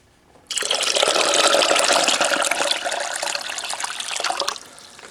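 Water pours steadily into a Thumler's Tumbler Model B case tumbler with stainless steel media for about four seconds, a full rushing splash that starts abruptly and stops just as suddenly.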